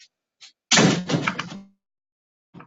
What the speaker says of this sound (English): Sorry to close my door.